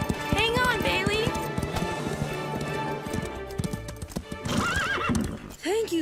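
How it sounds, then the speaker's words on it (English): Horses clip-clop along at a run, hooves beating steadily, with loud whinnies and neighs breaking out near the start and again at the end, set under busy cartoon scene sound with voices present. "I don't know what's gotten into these horses."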